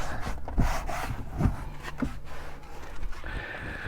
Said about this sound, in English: let's give the door trims a bit of a wipe because we sprayed it down